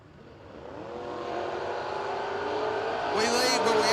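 Drag race cars, including a first-gen Camaro, build in a rising engine roar at a memorial drag race, growing louder over a few seconds and ending in a sharp burst as they launch.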